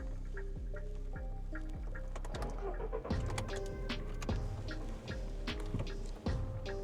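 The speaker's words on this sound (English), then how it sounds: "start the car." A 2011 Volkswagen Golf starts, heard from inside the cabin: a rhythmic starter cranking catches into a running engine, followed by a steady close idle with small clicks and chimes.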